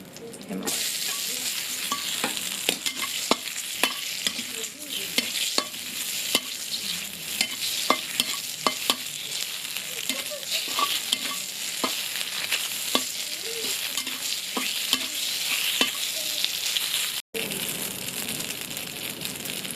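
Steady sizzling of ham frying in a pan, with occasional stirring scrapes and clicks, continuous and fairly loud with no talking.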